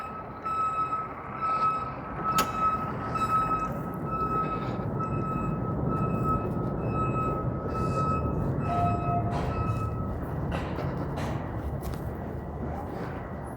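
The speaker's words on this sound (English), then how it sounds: "let's go and jump on the eastbound Line 2 train." An eastbound Line 2 subway train in Toronto rumbles steadily in a broad, even roar, with high electrical whines, a sharp tonal beep and brief squeals riding on top. No one speaks.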